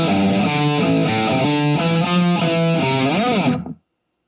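A distorted electric guitar plays sustained, fuzzy chords through a small Positive Grid Spark practice amplifier, loud and close, then cuts off abruptly into silence.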